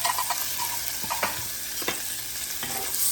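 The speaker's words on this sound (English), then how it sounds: "I'm just going to saute these until the mushrooms start to" Fresh and canned mushrooms sautéing in a pan for venison Salisbury steak, a constant close sizzle with occasional spatula scrapes and stirring knocks breaking through at irregular intervals.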